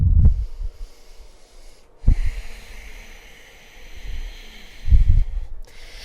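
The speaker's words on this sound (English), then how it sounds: "Let's take 1 more deep breath here." Deep breathing during a yoga half splits stretch: slow, close inhales and exhales through the nose and mouth, with breathy airflow and a couple of loud snorting exhalations between quieter stretches.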